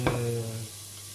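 Onions sautéing in a pan, with a short clatter of stirring at the start and a brief hiss and sizzle that quickly settles.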